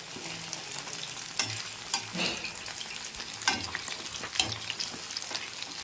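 Chicken pakodi fries in hot oil with a constant close sizzle. Several louder scraping stirs break through at irregular intervals, and no voices are heard.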